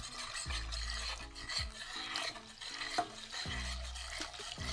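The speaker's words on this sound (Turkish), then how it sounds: "Şimdi biraz su ilave ederek karıştırıyoruz." A spoon stirs dry tarhana soup mix as water is added, giving soft, continuous scraping and sloshing with low-level rubbing throughout and no one talking.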